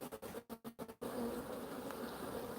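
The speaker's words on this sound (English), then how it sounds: "I'm gonna have bees everywhere" Honey bees buzzing around an open hive frame heavy with stores, a quick pulsing flurry of buzz that settles into a continuous close drone, quiet and without voices.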